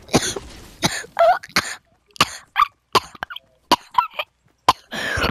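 A person coughs repeatedly in sharp, loud bursts with short pauses between them, close to the microphone, during a Fortnite gaming session.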